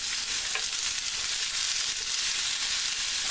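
Vegetables sauté in a pan preheated with coconut oil, giving a steady, close hiss of frying that holds evenly throughout with no talk over it.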